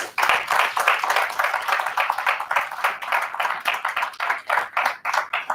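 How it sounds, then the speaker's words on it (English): Applause at an award ceremony, a small group clapping in an uneven, pulsing rhythm, fairly close and loud, continuing throughout with no other sounds. "A round of applause, please."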